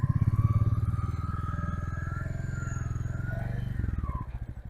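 A Royal Enfield Goan Classic 350 motorcycle turns slowly through a short U-turn, its single-cylinder engine giving a steady, close, throbbing idle thump that picks up briefly near the end, with no talking.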